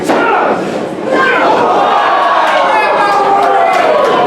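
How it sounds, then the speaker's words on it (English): A wrestling crowd at a pro wrestling show reacts to a stunner with a loud collective gasp, a dense sustained roar of many voices filling the whole stretch after a brief dip. "a collective gasp by this crowd"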